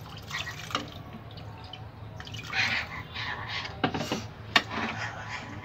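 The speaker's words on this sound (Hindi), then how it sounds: "थोड़ा सा हम पानी इसमें और डालेंगे।" Water is poured into a cooking pot of urad dal gosht, lentils cooked with meat, giving soft intermittent splashes and a few sharper drips close by, with no voices.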